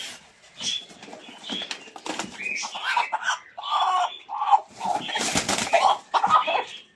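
A rooster clucks and squawks at close range on a farm in short, irregular bursts, with a few louder calls breaking through.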